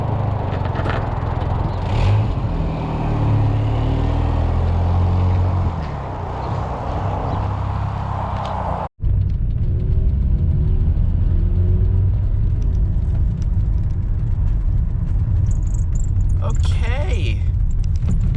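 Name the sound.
old auction car engine running, exhaust sounding rough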